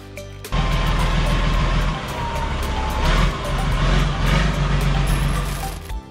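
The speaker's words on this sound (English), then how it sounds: "Scania confidently plows through the floodwaters, showcasing its impressive maneuverability despite carrying a load of timber logs at the back." A Scania logging truck loaded with timber logs plows through floodwater, its heavy engine droning loudly and continuously with splashing and rushing water over the top, no talk.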